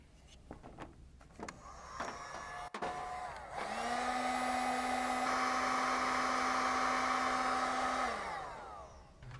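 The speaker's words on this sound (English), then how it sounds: "Use a heat gun to shrink the protective coating that's found on the terminals." A heat gun shrinking the protective coating on battery terminal wires during a Holley Sniper EFI installation, starting after a few clicks and blowing with a steady, loud whirring hiss for several seconds before spinning down.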